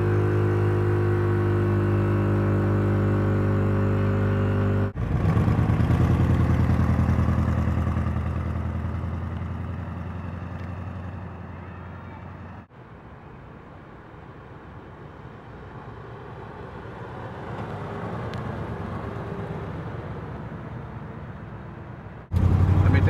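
A 1960 Buick Invicta with air suspension cruises along, its engine hum and road noise steady and close, shifting in character through the drive. Brief cuts interrupt the sound, and a voice may be present faintly.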